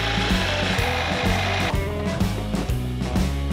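Jigsaw cutting a wooden cutting board in a sailboat galley: a loud, close, steady buzzing saw with a rapid rhythmic chatter that shifts pitch as the blade bites into the wood, with no talk.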